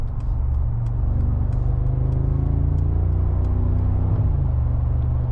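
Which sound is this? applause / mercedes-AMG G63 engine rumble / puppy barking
mercedes-AMG G63 engine rumble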